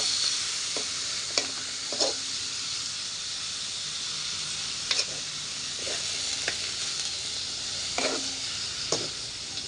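Pork frying with garlic and onion in a pan gives a steady, close sizzle, broken by regular scraping strokes of stirring every second or two.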